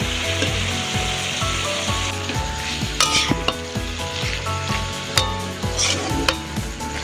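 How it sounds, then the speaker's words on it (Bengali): Ridge gourd cooked with grated coconut sizzles steadily in a pan while a utensil stirs and scrapes through it, with a few sharp clinks of metal against the pan. "নারকেলটা দিয়ে দিলাম দিয়ে ভালো করে"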